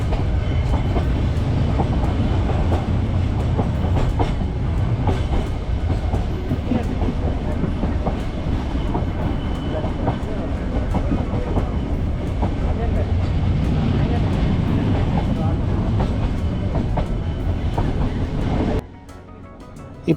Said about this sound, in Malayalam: ഇപ്പോൾ ട്രെയിൻ പോകുന്ന ഒരു നോർമൽ സ്പീഡിലാണ് പോകുന്നത്.